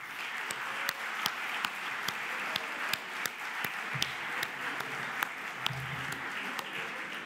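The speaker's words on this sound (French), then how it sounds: "ce que je propose, c'est d'applaudir les équipes" An audience at a private equity masterclass at a business school applauds steadily throughout, a dense wash of many hands clapping with a few sharper individual claps standing out.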